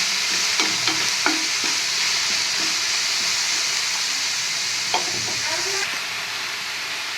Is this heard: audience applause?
no